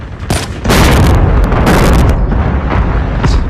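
A loud, close grenade blast in Call of Duty Mobile, a heavy booming roar that swells and rumbles on for several seconds, with further crackling bursts layered through it and no talking.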